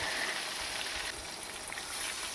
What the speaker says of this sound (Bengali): দেখো মাছগুলো ভাজা হচ্ছে।